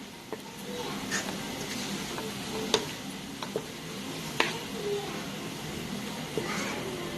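Cumin seeds sizzle in hot oil in a pan for a Pakistani aloo keema, a steady low crackle with a few sharp ticks and pops throughout.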